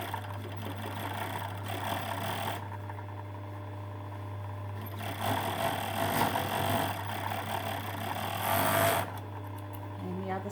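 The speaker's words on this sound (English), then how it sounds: "I'm going to overlock down the shoulder seam that we have to sew up." An overlocker runs down the shoulder seam of a plain poncho, its steady mechanical hum continuous over a low drone, with bursts of faster stitching and brief pauses between runs.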